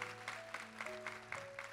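A church audience at a Terço da Misericórdia prayer service applauds a testimony, with faint, steady clapping heard at a distance under a low electrical hum.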